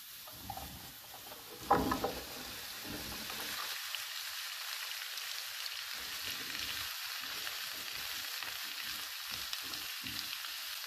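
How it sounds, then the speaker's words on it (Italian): Pumpkin frying in a pan gives a soft, steady sizzle throughout, with a few clattering bumps near the start as the pieces go in, then a faint even hiss without talk. "Trascorsi 2 minuti possiamo aggiungere la zucca in padella."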